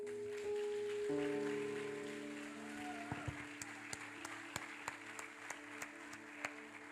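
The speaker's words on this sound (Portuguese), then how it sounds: "Uma salva de palmas para o Senhor pela vida dessa mulher, irmãos." Church congregation clapping during a sermon, starting under sustained musical tones from a keyboard and thickening into a steady wash of applause with sharp claps standing out, moderately quiet and somewhat distant.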